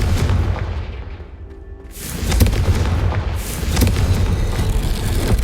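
Spell explosion from the Hogwarts Legacy video game: a deep booming blast bursts in after a quieter lull, followed by further rumbling impacts and sustained loud low-end roar.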